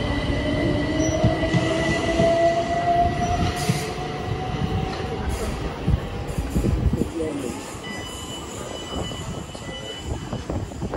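A train rolls into a station on the London to Eastbourne line, its steady rumble and rail noise loud and close, with a long wheel squeal running through, a faint horn, and people talking nearby.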